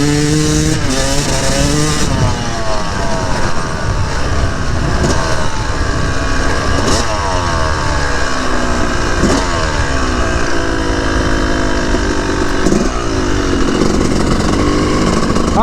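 Dirt bike fitted with an FMF Turbinecore 2 silencer, loud and close, its engine revving repeatedly in rising and falling bursts with sustained high-rpm stretches and no talking.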